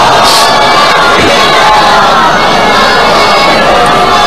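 A large majlis crowd calls out salawat together in a loud, continuous wall of massed voices and cheering, filling the whole stretch with no pause.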